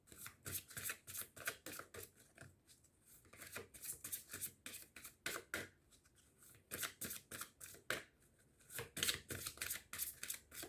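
Oracle cards being shuffled by hand for a nine-card tarot spread, a quiet, close series of papery riffles and flicks in uneven bursts with brief pauses, no talking.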